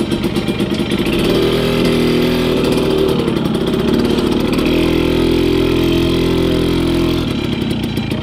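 A Yamaha Force 1 110 motorcycle engine runs loud and close, revving in a sustained rising and falling drone through the whole ride before easing off near the end.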